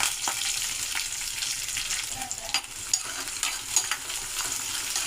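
Onions frying in oil with cumin, urad dal and curry leaves, a dense close sizzle with soft stirring scrapes and small pops running steadily throughout.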